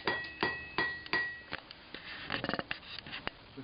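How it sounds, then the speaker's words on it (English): Blacksmith's hammer striking hot metal on the anvil horn in a forge: a run of sharp, ringing metallic blows in steady rhythm, followed by lighter, quicker taps, close and loud. "Start hammering on the diamond."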